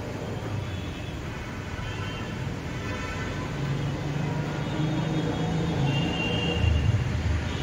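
A metro train rumbles at a station, a broad steady roar with low mechanical drone and faint tonal whine swelling slightly toward the end.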